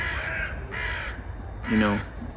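Crows caw harshly three times in quick succession, loud and close, with a brief pause between each call.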